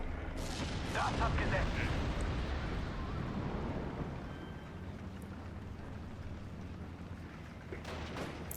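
Junkers 88 bombs strike a Wolverine tank in a WWII video game, a dense rumbling barrage of blasts loudest in the first seconds, then a sustained low roar with scattered cracks continuing behind.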